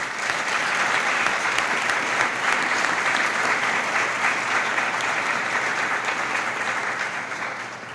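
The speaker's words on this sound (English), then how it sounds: "Let's give them another round of applause." A roomful of guests at the 2025 Democracy Awards ceremony gives sustained, even applause, a thick wash of clapping that holds for several seconds before tapering slightly at the end.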